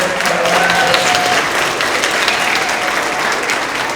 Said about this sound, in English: So a big round of applause for our 3rd, 4th grade boys.